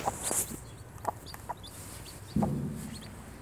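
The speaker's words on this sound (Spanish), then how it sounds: "Este es mi actual gallo ahora, que es mi compañerito también" A rooster and chickens cluck in a family flock, with short, soft scattered clucks at a moderate distance and one fuller cluck near the end.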